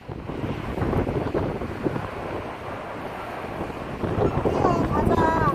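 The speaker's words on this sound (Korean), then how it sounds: "바람 진짜 많이 분다." Strong seaside wind buffets the microphone in a steady, loud roar at a Saemangeum coastal walk in Gunsan, with a gust swelling near the end.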